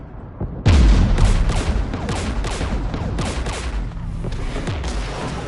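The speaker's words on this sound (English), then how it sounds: "We're taking fire." Heavy gunfire erupts in a Mass Effect Legendary Edition battle, a loud sudden burst followed by sustained rapid volleys and booms that continue without pause.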